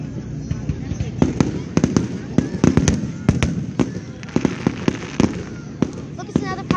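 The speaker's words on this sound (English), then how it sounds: "it's really hard to get pictures of fireworks" Fireworks burst in a rapid string of sharp cracks and pops, some close and loud, others overlapping, with people talking faintly in the background.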